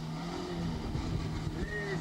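Autobianchi car running a gymkhana course in 1983, a faint, distant engine hum with a slight rise in revs near the end, heard amid open-air ambience.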